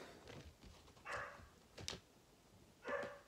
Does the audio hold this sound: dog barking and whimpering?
yes